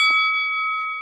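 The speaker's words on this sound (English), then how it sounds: "Ring the bell one time for the US Ambassador." A single bell strike rings out loud and close, its clear metallic tone sustaining and slowly decaying across the whole second.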